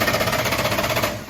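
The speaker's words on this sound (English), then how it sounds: "I'm gonna run it over on the starter real quick." A rebuilt big block V8 engine is cranked over on its starter, a loud, steady, rapid mechanical chugging that stays close and even throughout before tapering slightly at the end.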